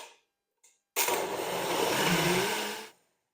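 A kitchen blender purées vegetables and meat juices into a sauce, its loud motor whirring steadily for about two seconds after a couple of brief clicks, then cutting off into silence.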